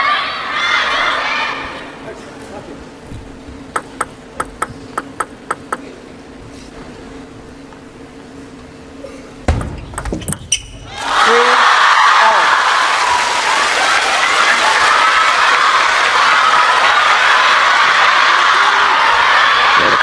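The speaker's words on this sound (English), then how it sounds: "the crowd now getting more and more vocal." A table tennis arena crowd at the China Smash event, quiet with scattered claps at first, then erupting at once into loud, sustained cheering, shouting and applause that fills the hall.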